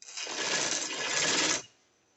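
A sewing machine runs a short burst of fine pintuck stitching along the piping of a poncha, a close, even whir lasting under two seconds before cutting off abruptly.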